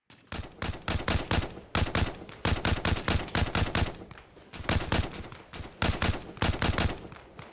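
Bursts of automatic rifle fire in Arma Reforger, loud and close, rattling in rhythmic volleys of several shots with brief gaps between them across the whole stretch.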